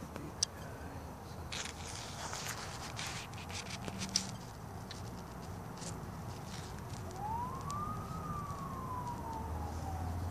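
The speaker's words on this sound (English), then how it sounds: "There's the police sirens." A distant police car siren gives a single faint wail that rises and then slowly falls, heard outdoors over soft background noise and scattered small clicks.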